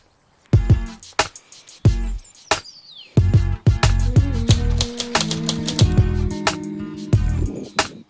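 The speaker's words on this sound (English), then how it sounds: "And of course, I'm going to do my typewriter." A typewriter clatters through a writing session, with crisp, loud key strikes that start sparse and then run into steady rapid typing, accompanied by mechanical clunks and a brief carriage or bell sound.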